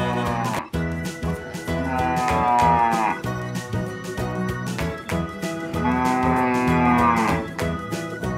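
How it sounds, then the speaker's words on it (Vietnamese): Cattle mooing in long, drawn-out calls, two loud bellows separated by a pause, with a steady musical backing beneath and no talking. "Con bò."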